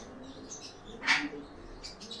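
A pigeon chick that has just hatched from a cracked egg gives a few brief, faint chirps, one sharper peep standing out against a quiet background.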